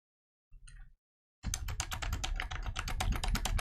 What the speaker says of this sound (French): quand je tape mes propres valeurs